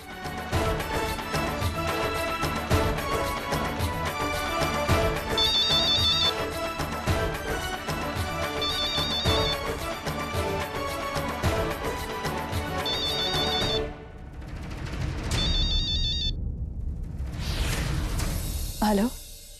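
A telephone ring tone repeats in short bursts over a busy music bed, then a few whooshing sweeps follow as the music drops out.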